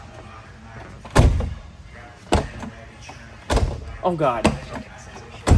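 A heavy truck door at a truck meet is slammed shut several times in a row, loud close thuds with short gaps and a rattle between, while a voice speaks briefly.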